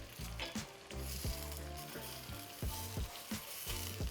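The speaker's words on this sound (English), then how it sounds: "now just fry these ingredients till the chilies become nice and crisp" Dry red chilies frying with other ingredients in a pan until crisp for a Goan vegetarian dish, a steady close sizzle with rhythmic scraping stir strokes repeating about every third of a second.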